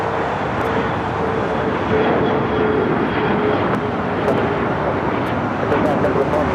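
An Asiana airliner taxiing at LAX gives a broad, steady engine rumble and roar, fairly loud, with talk over it throughout.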